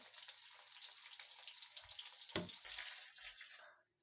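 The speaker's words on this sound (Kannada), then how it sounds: "ಎಣ್ಣೆ ಬಿಸಿಯಾಗಿದೆ ಸ್ವಲ್ಪ ಸಾಸಿವೆ ಹಾಗೆ ಒಂದು ಅರ್ಧ ಈರುಳ್ಳಿ ಹಾಕಿದ್ದೀನಿ" Mustard seeds and half an onion frying in hot oil, a soft continuous crackling sizzle with a few low thumps, fading out abruptly at the end.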